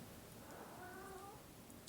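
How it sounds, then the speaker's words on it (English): A house cat gives a short meow in a quiet indoor room, a brief soft call near the middle of the moment with faint background hiss and no talking. "that's my cat, by the way."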